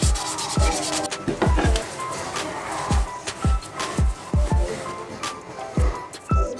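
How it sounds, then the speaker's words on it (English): Close, loud hand sanding of a carbon fiber mirror cap from a BMW F30, using 400-grit sandpaper, with a steady rough rubbing broken by repeated sharp strokes or taps. "Right now I'm using a 400 sandpaper, and it's doing pretty good."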